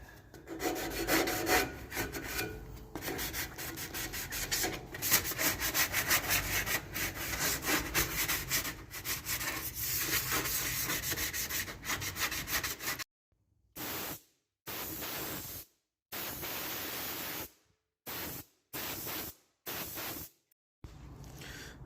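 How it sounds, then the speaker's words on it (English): Steady rasping scrape of a sanding block scuffing a Honda Integra engine bracket before primer and paint, continuous strokes for about thirteen seconds, then short broken bursts of scrubbing with gaps of silence. "I'm going to go ahead and scuff it up so that the primer and the paint sticks"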